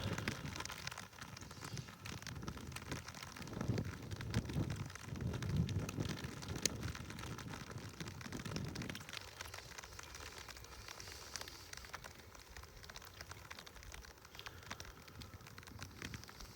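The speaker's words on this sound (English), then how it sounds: "Starting to rain again." Rain falling along a mountain trail beside a lake, a steady soft patter with a low rumbling stretch early on, alone and fairly quiet throughout.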